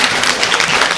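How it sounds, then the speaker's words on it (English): Loud, dense hand clapping from a live audience at a TEDx event in Oldham, a sustained wash of claps filling the whole moment with no voices. "clap your hands as loud as you can"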